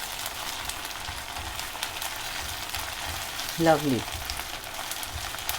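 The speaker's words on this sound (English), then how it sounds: "We'll cook till the raw smell goes of the garlic and it's cooked." Garlic frying in a pan for Malwani prawns masala: a steady, soft sizzle throughout, with a brief spoken word from a nearby voice partway through.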